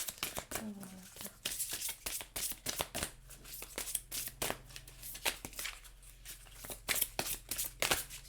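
Oracle cards are shuffled and drawn by hand, making a steady run of soft rapid riffles and flicks close by, with a voice speaking at times over the shuffling.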